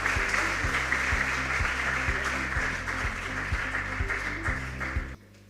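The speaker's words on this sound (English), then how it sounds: "Let's give a hand of applause for our sponsors." Audience applause for sponsors at a school demonstration contest, a steady dense patter of many hands clapping with a low rhythmic thump beneath, continuing loudly before cutting off abruptly near the end.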